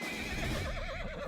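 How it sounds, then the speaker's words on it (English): A Dark Bay Mustang horse in Legend of California gives a loud, close neigh with a wavering whinny across just over a second, heard alone without talk. "Giddy up, boy. You're mine now, Dark Bay Mustang."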